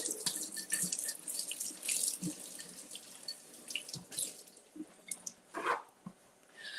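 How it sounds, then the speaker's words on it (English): Grapes are washed under a running kitchen tap, with a steady faint hiss of flowing water and scattered splashes and drips as the fruit is handled. The sound is fairly quiet and close, with no talking. "we're gonna take our grapes out. Let me give this a wash."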